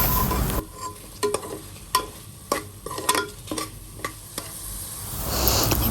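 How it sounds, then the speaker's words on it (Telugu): A spatula stirs spice powders frying in a hot pan for mushroom rice, a steady sizzle broken by sharp scraping clicks against the metal at irregular intervals, close and fairly loud. "ఇవన్నీ యాడ్ చేసుకొని మళ్ళీ ఒకసారి ఫ్రై చేసుకుందాం"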